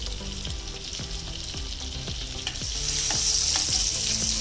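Asafoetida and cumin seeds sizzle in butter in a hot pan, a steady close frying hiss with repeated stirring knocks of a spoon, the sizzle rising louder toward the end.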